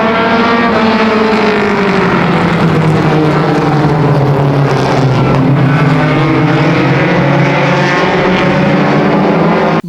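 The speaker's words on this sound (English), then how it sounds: "20 laps for our mini stock division. We're ready to go racing." Mini stock race cars roar past in a loud, steady pack at Flamboro Speedway, their engine drone rising and falling in pitch throughout without a break.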